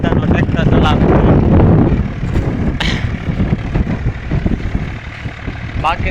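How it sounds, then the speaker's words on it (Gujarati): A tractor driven across a farm field, its engine a continuous rumbling drone, heavily buffeted by wind noise, with a person talking over it. "જો તમે કેવો મસ્ત મજાનો ટ્રેક્ટર ચલાવે છે"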